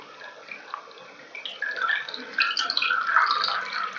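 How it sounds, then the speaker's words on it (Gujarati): Fresh chhena being rinsed with plain water while making rasgulla, a soft splashing and trickling that builds over a few seconds, close but gentle, without speech. "આપણે એને નોર્મલ પાણીથી ધોઈ લઈશું એટલે ખાટો હોય એ જતું રહે"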